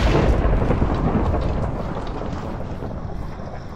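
Video game thunder from a lightning strike, a loud, broad crash that rolls and slowly fades over a few seconds with no talk.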